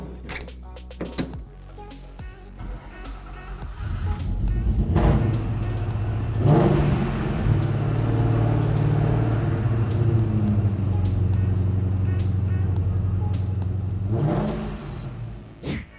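A Ford Mustang engine starts, settles into a steady rumbling idle close by with a brief rev, then shuts off, with a faint voice near the start.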